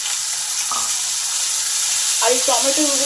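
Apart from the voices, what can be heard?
chopped tomato added to frying cumin and chillies, sizzling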